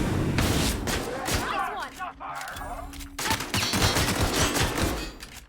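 Bursts of rapid gunfire and booms in The Outer Worlds, dense and loud at first, easing to a brief lull with a faint tone before heavy firing resumes.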